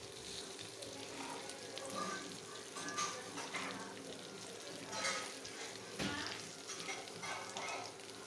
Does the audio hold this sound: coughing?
no